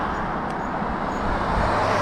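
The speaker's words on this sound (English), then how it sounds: "cars are zooming by you, as they are right now" Traffic rushes past on a narrow, dark forest road between Felton and Scotts Valley, a steady, fairly loud roadway roar that swells slightly toward the end.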